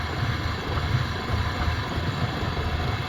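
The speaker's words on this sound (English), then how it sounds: "Here's the engine, it's just barely idling enough to, that's why you're losing vacuum." A Centurion car engine barely idling and losing vacuum, close to stalling, gives a rough, low, steady rumble with faint irregular pulsing under broadband hiss. No one speaks.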